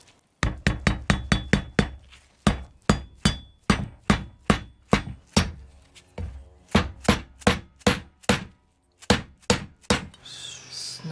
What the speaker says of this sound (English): Tap it down with the dead blow so that everything's in the hole.